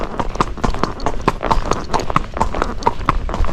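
Gaited Rocky Mountain horse walking under a rider, its hooves striking in a steady, close clip-clop rhythm of repeated sharp knocks throughout.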